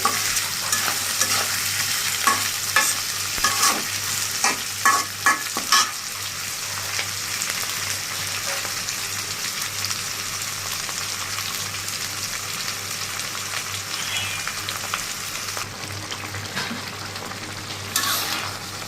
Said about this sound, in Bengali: এবার মাছগুলো কষানো হয়ে গেল